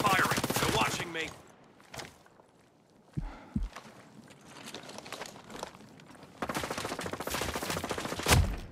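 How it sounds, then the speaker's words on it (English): Hostile gunfire in a PS5 PvP match of Tom Clancy's Ghost Recon Breakpoint: a few sharp, separate shots crack out, near and fairly loud, between stretches of game noise, with voices talking at the start and end. "Hostiles are firing."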